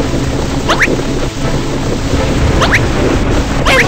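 A video game storm at sea rolls on as a loud, constant rush of wind and waves with low rumbling, while a few short rising synthetic chirps break through at intervals.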